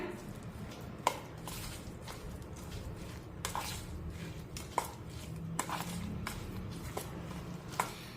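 Chopped onion and salt being mixed by spoon into green moong appe batter in a bowl, giving soft wet squishing with occasional light clinks against the bowl over low background noise.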